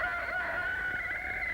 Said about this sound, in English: Very early in the morning, the rooster sends out his call,